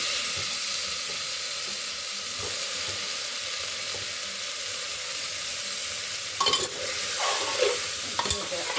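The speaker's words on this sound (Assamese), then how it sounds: "এইখিনিতে এতিয়া মই দি দিম কলপাতৰ ঠাৰি, লগতে দি দিম আলুখিনি" Banana leaf stalk and potatoes frying in a pan, a continuous sizzle with soft stirring, then louder clattering scrapes as the pieces are tossed in near the end.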